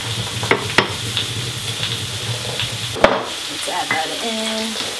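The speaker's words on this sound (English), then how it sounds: "And crack an egg in." An egg goes into a hot oiled pan for fried rice and fries with a continuous sizzle, broken by a few sharp taps and clatters of utensils and pans, near and clear.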